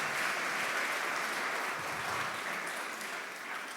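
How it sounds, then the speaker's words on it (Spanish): Church congregation applauding, a dense, even wash of clapping that holds steady and fades slightly toward the end. "Eso sí que merece un aplauso"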